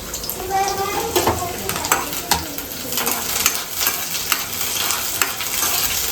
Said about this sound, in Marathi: आता आपलं आता तेल गरम झालं याच्यामध्ये मी टाकते कांदा